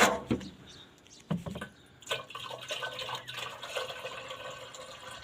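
Water is poured into an old backhoe before starting it, giving a few loud splashing bursts followed by a steady trickling, gurgling flow outdoors.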